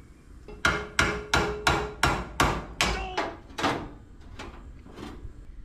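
Sheet metal is hammered over a round rod clamped in a vise, about nine evenly spaced sharp metallic blows, steady and close, fading into lighter taps near the end.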